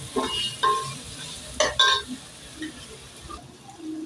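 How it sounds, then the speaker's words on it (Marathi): Garlic stirred and fried in a pan for veg biryani, with scraping spoon strokes and short bursts of sizzle close up, quieter between strokes, no talking. "आता हे मिक्स करूया व्यवस्थित जरा आपल्याला लसणाचा कच्चा वास जाऊ दे"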